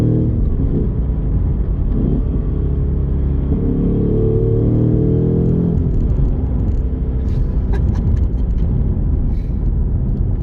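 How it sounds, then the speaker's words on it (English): A 2025 Ford Mustang Dark Horse engine rumbles loudly and continuously, with brief rises and dips in pitch as revs are matched through gear changes. "Oh, listen to that rev matching"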